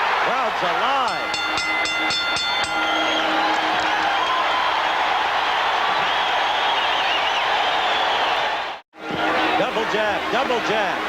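Roaring boxing crowd at the Larry Holmes vs Gerry Cooney heavyweight fight, a loud sustained cheer with whoops, a brief drop near the end, and a commentator talking over it.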